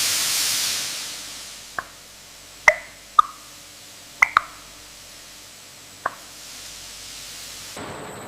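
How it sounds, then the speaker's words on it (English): In a spice factory, steam blanches harvested green black pepper berries. A soft hiss fades in and out, and several sharp pops and clicks burst out at uneven intervals, fairly close and clear, with no voices. "A quick burst of steam triggers an enzymatic reaction that will eventually turn these green berries black."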